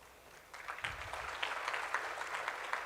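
Audience applause in a hall at a formal ceremony marking an MOU exchange, steady clapping from many hands that swells after a quiet start and holds for a few seconds.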